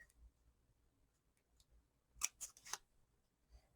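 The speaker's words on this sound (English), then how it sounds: "I'm going to take a smaller pair of scissors. And I'm just going to cut down a little bit on the sides" A small pair of scissors snips card in three quick, crisp cuts, close and quiet against a near-silent background.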